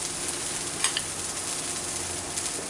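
Hashbrowns frying on a 17-inch Blackstone griddle give a steady, even sizzle with a couple of brief scraping clicks, close and alone.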